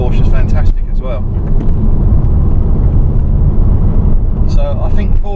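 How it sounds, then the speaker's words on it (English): A Porsche Cayman 2.7 on the move gives a steady, loud engine and road rumble, with people talking over it at the start and end. "It's the sound of the Porsche is fantastic as well."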